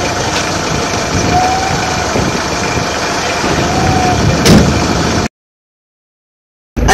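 A manual car engine idles with a steady, loud rumble during a brake-and-clutch pedal test, then cuts out abruptly into silence before briefly returning.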